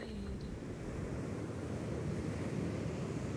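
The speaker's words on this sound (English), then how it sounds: "I feel that the waves, for example, are crashing over my head" Ocean waves crash and wash continuously inside an art installation soundscape, a steady, enveloping surf roar with no voices.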